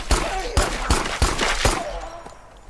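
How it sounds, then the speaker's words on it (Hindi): Rapid gunshots ring out in a video game, several sharp loud blasts fired in quick succession at a monster, with booming echoes trailing off. "गोलियां तो मैंने उसके 3-4 बजाए इस बार"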